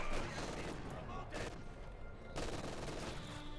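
Gunfire crackles through a Company of Heroes 2 battle as rapid volleys and sharp bursts of shots overlap with dense explosive battle noise, loud and close.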